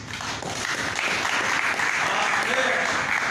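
A church congregation claps through a worship service, dense and steady applause filling the room with voices mixed in.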